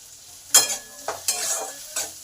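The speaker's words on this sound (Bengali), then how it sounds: "এবার পেঁয়াজটা আমি লাল লাল করে ভেজে নেব" Onions frying in oil for a cauliflower-leaf greens stir-fry, with soft sizzling and several sharp bursts of stirring scrapes, close by and without talk.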